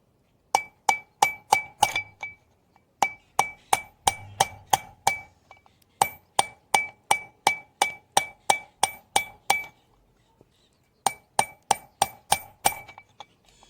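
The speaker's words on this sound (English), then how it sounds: "you get your little hammer and just bah" A hammer strikes metal in steady rapid bursts of sharp ringing clanks, with brief pauses between runs; close and loud. Pounding out the passenger CV axle of a 2010 Ford Focus with manual transmission.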